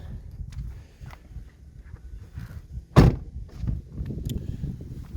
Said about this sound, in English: these doors also make a nice satisfying thud when you shut them